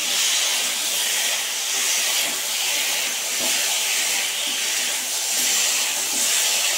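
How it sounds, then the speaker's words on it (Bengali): Spices braising in gravy in a home kitchen pot give off a steady, close hiss of steam and sizzle, continuous and even throughout with no talking. "এখানে ঝোলেতে সব মশলা দিয়ে কষানো হচ্ছে।"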